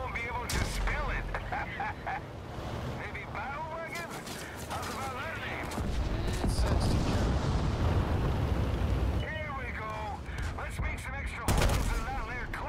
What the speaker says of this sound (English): Oh, I like the sound of the gun.